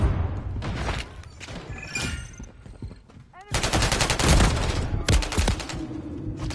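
Rapid automatic gunfire on the Rio multiplayer map of Call of Duty: Modern Warfare III, with scattered shots first and then a loud, sustained burst of close-range fire that continues to the end.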